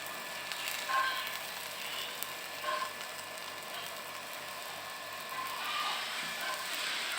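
Half-fried fish added back to a pan for an Assamese recipe, giving a low, steady sizzle with a few brief brighter crackles, fairly faint and close, with no talking.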